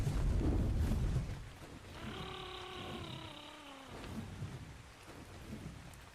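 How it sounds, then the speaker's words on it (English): Steady rain pours over a deep thunder rumble during a stormy weather event in the video game ARK, with a rising electronic tone sounding for about two seconds in the middle. "there's going to be a rainstorm while there's already a rainstorm happening"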